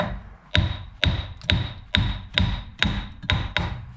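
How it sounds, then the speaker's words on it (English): Eight sharp metallic taps from a small hammer on a Vauxhall Vivaro's outer CV joint, in a steady rhythm, each with a brief ringing ping, close and fairly loud. "Where's my little hammer? Let's see what happens."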